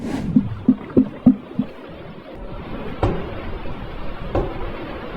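Underwater banging recorded during the search for the Titan submersible: five evenly spaced, muffled knocks in quick succession, then two more isolated thuds after a pause, over a low murky background.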